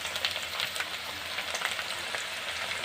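Spoonfuls of pakoda batter fry in hot oil, making a steady, close sizzle with crackling pops that carries on without pause and with no voices.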